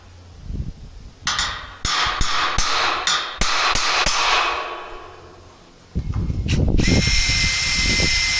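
Power drill driving bolts into the metal wall of a Titan 3x3 shed under construction, heard as several loud whirring bursts with sharp metallic clangs, then a longer rough grinding drive near the end, close and with no talking.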